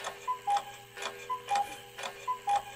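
A clock ticks steadily in a paired tick-tock rhythm about once per second, close and clear over a faint low hum, with no other sounds.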